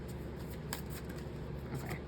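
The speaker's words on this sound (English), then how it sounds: "this is my Moonology deck, and I'm going to pull a few cards" A Moonology oracle card deck being shuffled, a steady soft papery riffle and rustle running throughout at low level with no voice.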